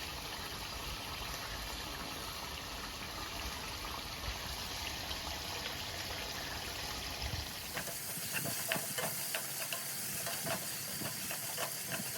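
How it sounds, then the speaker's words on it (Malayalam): Curry leaves, mint and coriander dropped into frying chicken masala give a steady, faint sizzle and hiss that stays even throughout, shifting slightly in texture near the end as stirring clinks in, with no talking. "നമ്മൾ കുറച്ച് കറിവേപ്പിലയും പിന്നെ പുതിനയിലയും മല്ലിച്ചപ്പും കൂടി ഇട്ട് വെക്കട്ടെ"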